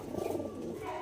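Pure Andhra breed pigeons coo in a soft, low rolling burble, fairly close and steady through the moment, with no talk over it.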